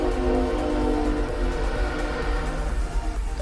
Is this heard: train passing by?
yes